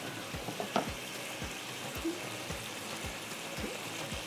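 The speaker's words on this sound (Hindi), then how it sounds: "चलिए इसको हम थोड़ा इसको अच्छे से भून लेते हैं।" Minced meat fries in a karahi with a steady sizzle, while a spoon scrapes and stirs in a regular rhythm of about one stroke every half second, close and moderately quiet.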